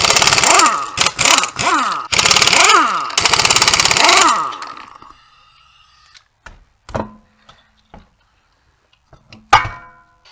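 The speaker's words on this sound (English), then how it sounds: "Remove the wheel." An impact wrench rattles lug nuts off the wheel of a 2006 Pontiac G6 in several loud, buzzing bursts, followed by scattered clunks and knocks as the wheel comes free.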